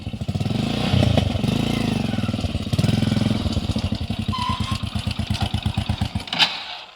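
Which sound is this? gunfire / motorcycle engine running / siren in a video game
motorcycle engine running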